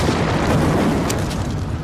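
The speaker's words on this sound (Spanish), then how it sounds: "La explosión fue muy grande" Underwater explosion of a Russian nuclear submarine, rendered as a deep, loud, continuous rumbling boom that sustains without pause.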